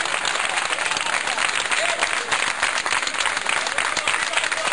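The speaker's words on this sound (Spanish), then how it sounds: "¡Un aplauso!" A crowd at a rally or gathering bursts into sustained applause, dense overlapping clapping that holds steady and fairly loud for several seconds, with some voices mixed faintly underneath.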